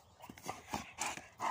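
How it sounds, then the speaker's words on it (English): A dog makes a few quick, faint, close scuffling and panting sounds in short bursts over a second and a half. "Crazy dog."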